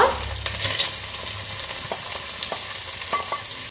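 Long-sliced onion frying with ginger garlic paste in a pan for egg stew, giving a close, continuous sizzle broken by scraping stirs and light clicks of a utensil.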